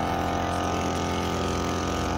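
Engine-powered sprayer pump on a melon, pumpkin, cucumber and okra farm runs steadily and loudly throughout, a constant droning hum with no pauses.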